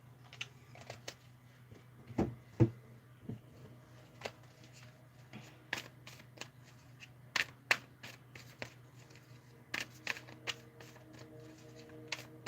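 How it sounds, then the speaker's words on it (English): Tarot cards picked up and shuffled after a drop, a close, irregular run of light clicks, taps and riffles against a low steady hum, with no talk. "Oh, hold on, I just dropped some cards"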